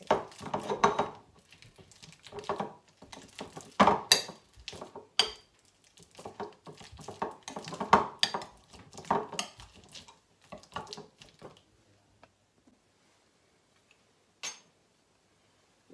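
Banana is mashed in a bowl for millet beignet batter: irregular knocks, clanks and scrapes of a utensil against the bowl, then quiet, with a final lone tap.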